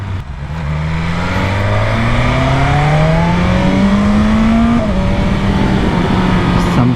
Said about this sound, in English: I'm gonna go right here, quick downshifting like a pro